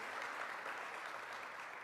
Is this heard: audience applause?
yes